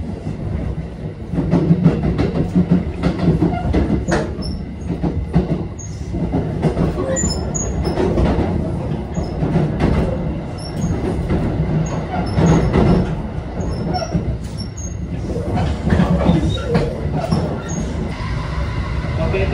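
Limited express Thunderbird train running on rails on the Maibara detour route, with a steady rumble and rhythmic wheel clatter heard from inside, plus occasional faint squeals and clicks throughout, and some voices underneath.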